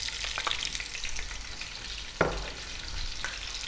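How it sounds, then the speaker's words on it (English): Chopped onion fries over medium heat in hot oil and rendered lamb fat, a dense, steady crackling sizzle with a brief clack of a spoon partway through. "Medium heat, we're gonna drop in 1 cup of onion."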